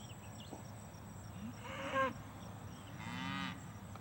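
Grass-fed cows in an open pasture moo twice, one short call and then a longer drawn-out low bellow, heard at moderate distance over a quiet outdoor background.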